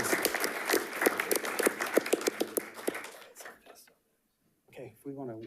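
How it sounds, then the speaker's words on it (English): An audience at a school district meeting claps for about three and a half seconds, a dense spatter of applause that fades out, followed by a brief silence and then a voice speaking. "let's go ahead and give them a big round of applause"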